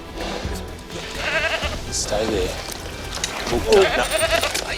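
A wild, woolly Barbary sheep at a zoo bleats in short bursts among keepers' voices and handling noise, the calls fairly close and loud amid steady background commotion.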